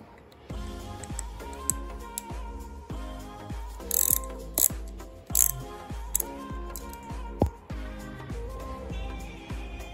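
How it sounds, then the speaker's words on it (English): Front brake master cylinder being unbolted from supermoto handlebars with a ratchet, giving steady close clicking strokes and metallic clinks throughout, with no talk. "we'll go ahead and remove the master cylinder from the handlebars"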